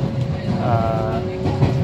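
Interior of a moving train in rural Japan on a holiday: steady rolling rumble with a whining tone and rhythmic rail clatter, close and continuous, no talk.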